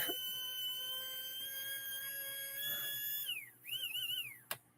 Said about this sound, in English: It sounds like a dentist drill.